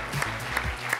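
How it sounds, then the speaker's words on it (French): An audience applauds prize winners at the awards ceremony of a national science competition final, a dense and steady wash of clapping that fills the whole moment. "on va vous applaudir"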